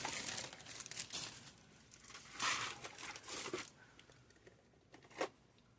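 A big bunch of stickers being rummaged through, with intermittent crinkling and rustling of paper and plastic in short bursts, close and moderately loud.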